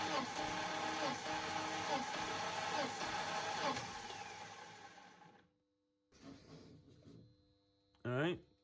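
BMW starter motor cranking the engine during a compression test, a strained, harsh whirring that runs loud and steady for several seconds, then cuts out, followed by short bursts of cranking after a pause.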